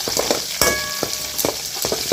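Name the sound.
dried red chilies sautéing in a pan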